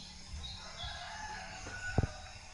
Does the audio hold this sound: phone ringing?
no